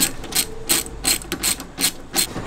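Quick bursts of a hand ratchet turning out the bolts on a van seat being removed for a swivel seat install, about seven close, sharp clicking runs with brief pauses between, no talking.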